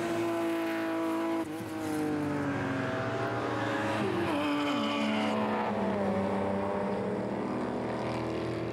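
BMW race cars, including a flame-throwing BMW M3 GTR, race at Hampton Downs. Loud engines roar steadily and rise and fall in pitch as the cars pass and shift gears, with no talk.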